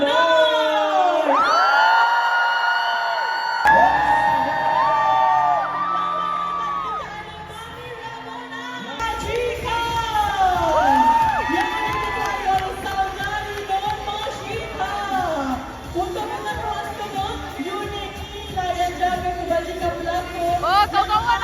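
A school mock trial crowd cheers, whoops and shouts loudly throughout, with children's high yells rising over a dense, continuous roar of the audience.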